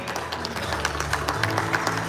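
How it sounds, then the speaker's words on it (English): A crowd applauds the chairman at the Hiyas ng Pilipinas 2023 Visayas screening pageant event, with steady, dense clapping that runs for the whole stretch at an even level and has a few sharper claps poking through. "Big round of applause to our chairman."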